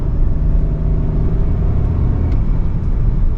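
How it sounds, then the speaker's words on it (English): A 2019 Audi A6 Quattro S Line engine pulling under light throttle, heard from the cabin as a steady, loud low rumble and whir with road noise, no talking. "Give it a little gas."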